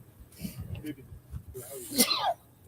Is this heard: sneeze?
yes